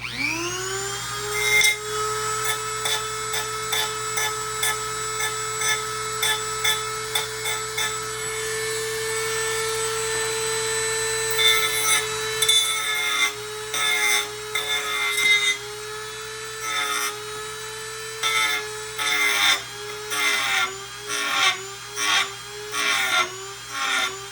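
A rotary tool grinds down plastic parts on a Proton Pack prop, a steady high-pitched whine that holds for about twelve seconds, then breaks into short repeated bursts as the bit touches the plastic on and off, close and loud.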